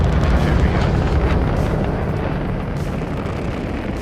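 Missile launched from an Aegis Eclipse bomber in Star Citizen and detonating, a loud continuous roaring blast with dense low rumble that slowly tapers off, no voices.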